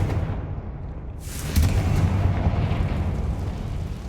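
A Confringo spell explosion in the video game Hogwarts Legacy, a sudden loud blast about a second in, then a rumbling, crackling roar that stays up for several seconds.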